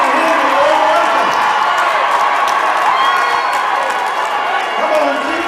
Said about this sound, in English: Come on, keep on clapping him.